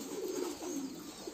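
Pigeons coo softly in low repeated murmurs at close range, steady and alone with no voices.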